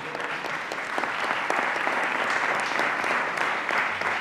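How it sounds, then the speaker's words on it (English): Audience applauding a working-dog demonstration at an airport perimeter security hearing, a dense, steady wash of many hands clapping at close range throughout. "Let's give the dogs a hand of applause"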